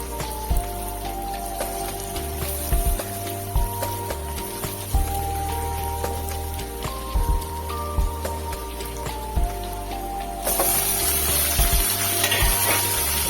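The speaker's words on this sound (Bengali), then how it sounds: "আগে থেকে ফ্রাই করে রাখা আলুগুলো দিয়ে দিলাম দিয়ে একটু নেড়ে চেড়ে নিলাম" Onions and pre-fried potatoes sizzle steadily in a pan, with a spatula's scraping and clinking strokes repeating as they are stirred, close and fairly loud, with no talk.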